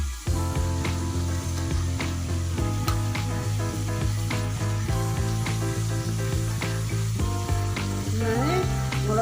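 Chicken and capsicum gravy fries in a pan with a steady sizzle that runs throughout, partly masked by prominent background music.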